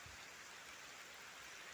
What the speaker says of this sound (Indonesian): Cuaca hujan bosku.